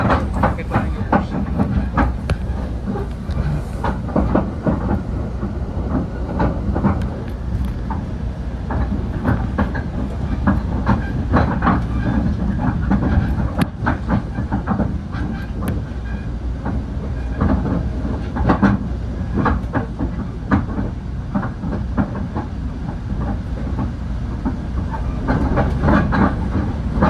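A GO Train commuter train rides the tracks from Newmarket toward downtown Toronto, with a steady loud rumble and rhythmic clickety-clack of the wheels heard from inside the carriage, continuous throughout.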